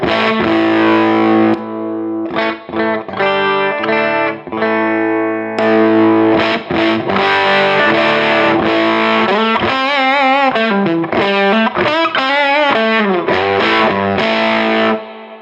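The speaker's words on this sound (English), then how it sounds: "having like a low gain drive into a clean amp" An electric guitar through a Teisco low-gain distortion pedal into a clean amp, with mild overdriven grit, plays 70s rock chords and bending single-note lines, loud and close, with no talking.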